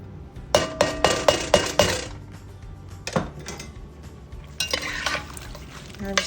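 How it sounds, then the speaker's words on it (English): A spoon stirs apples with lemon zest in a pot, with a quick run of sharp clinks against the side, a pause, then more clattering taps and scraping, close and alone. "And I'm just going to stir well."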